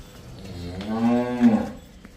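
A single drawn-out moo from a dairy cow on a farm, close and fairly loud, rising then falling over about a second, with no talking.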